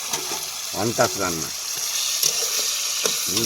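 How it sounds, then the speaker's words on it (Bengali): Fish sizzle and crackle as they fry in oil in a pan, a constant bright hiss punctuated by sharper spatters, with brief speech-like voices over it. "মাছ ভাজার পর্ব মোটামুটি শেষ হয়ে যাচ্ছে"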